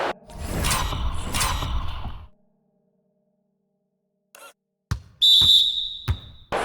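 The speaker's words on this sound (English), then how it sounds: "And there's the whistle." A referee's whistle sounds during an NBA Finals basketball game between the Grizzlies and the Pistons, one short shrill blast among arena noise, thuds and swishes, after a brief quiet gap.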